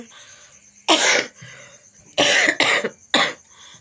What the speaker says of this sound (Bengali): আমার একটু কথা বলেই কাশি হচ্ছে, শুধু কাশি